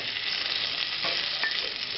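Shrimp sizzle and fry steadily in hot oil in a pan for a restaurant-style arrabbiata, a dense crackling hiss with a few faint clinks and stirring touches.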